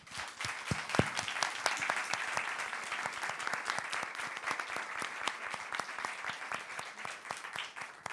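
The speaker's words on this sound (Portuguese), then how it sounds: "Palmas para vocês." An audience at a book fair talk applauds warmly and steadily, a dense patter of many hands clapping that stays at an even level throughout, with a faint voice underneath.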